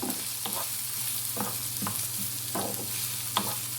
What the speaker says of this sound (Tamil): வெங்காயம் சேர்த்துட்டு வதக்கி விட்டுக்கலாம்